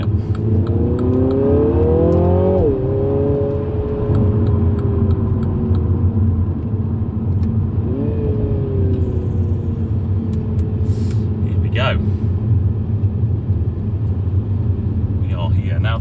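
Mini car accelerating with manual paddle-shift gear changes, engine note climbing then dropping sharply at each shift, heard from inside under a steady cabin rumble.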